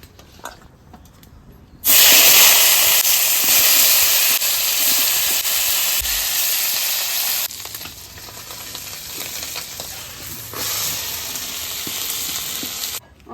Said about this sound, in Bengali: মাছগুলো সুন্দর করে লাল করে ভেজে নিতে